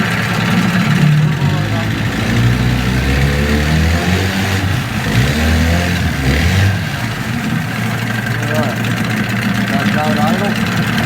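A Johnson 9.9 hp outboard motor runs in gear, a loud, close engine drone with a steady low throb and slight wavering in pitch that carries on throughout.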